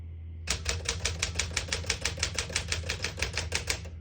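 Keys strike steadily on a 1960 Smith-Corona Sterling portable typewriter, a close, even run of about twenty sharp clacks in quick rhythm after a brief quiet start.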